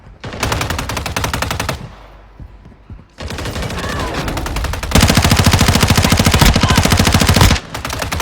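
Automatic gunfire in Call of Duty Warzone Mobile comes in loud, rapid sustained bursts, a long volley, a short pause with scattered quieter shots, then a longer close stream of fire before stopping.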